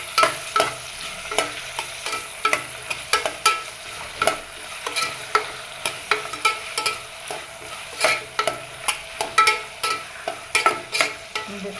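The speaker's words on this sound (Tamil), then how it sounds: "தக்காளி சேர்த்து நல்லா வதக்கிக்கிறேன்." Onions and tomatoes sautéing in oil in a pan, a steady sizzle broken by repeated sharp scraping clicks of a spoon stirring, close up, with no voices.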